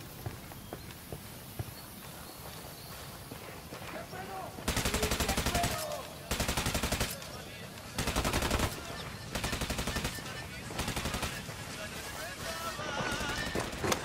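Bursts of automatic gunfire in a Ghost Recon Wildlands firefight, several loud sustained volleys separated by short pauses, over a busy background of game ambience and footsteps.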